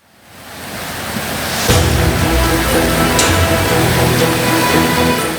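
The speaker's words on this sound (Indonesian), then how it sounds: "Derasnya arus Sungai Gelis dipicu turunnya hujan dengan intensitas tinggi sejak Jumat lalu" The swollen Gelis River in Jepara rushes with a strong current after heavy rain, making a loud, continuous broadband roar of churning water that builds quickly and holds steady.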